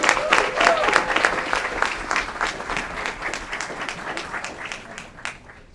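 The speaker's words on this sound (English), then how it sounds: "Big round of applause." Applause at a city council meeting in Aurora as a student is recognized, a roomful of people clapping steadily then tapering off over several seconds.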